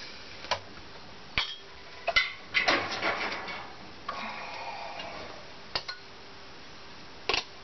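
A metal canning jar lid knocks and clinks against the bottom of a pot of simmering water. There are several sharp, separate ticks and a short cluster of rattling contacts, close by, with no talking.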